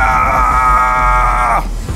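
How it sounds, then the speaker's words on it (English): A loud, sustained primal scream rings through an arcade, holding steady for about a second and a half before cutting off abruptly, with no other voices. "primal scream fills the arcade"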